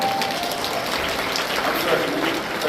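A church congregation at a Sunday service breaks into sustained applause, a dense, even wash of clapping that fills the room, with a voice faintly mixed in beneath.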